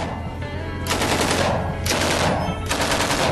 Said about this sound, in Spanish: Aprieta el gatillo y suelta.